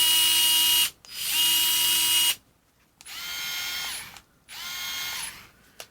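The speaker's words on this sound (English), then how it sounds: "The Worx, a little bit more, you can hear it in the drivetrain." A Worx battery-powered screwdriver motor whirring with audible drivetrain gear noise, run in three bursts of roughly one to one and a half seconds each, close and loud with short silences between.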